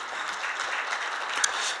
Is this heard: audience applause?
yes